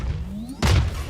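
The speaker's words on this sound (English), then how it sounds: "Placing swarm grenade." Swarm grenade being placed in the video game Valorant, heard as a single dull thump that lands about halfway through, preceded by a faint rising whine and followed by a brief rumbling tail.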